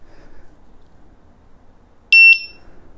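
After a quiet stretch of faint background noise, the Mten5 electric unicycle's beeper gives two short, sharp, high-pitched beeps close together.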